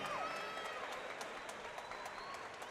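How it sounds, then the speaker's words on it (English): Steady applause from a boxing crowd, dense clapping filling the whole stretch at an even, moderate level with no gaps. "Round of applause, ladies and gentlemen, for both of the boxers in the center of the ring."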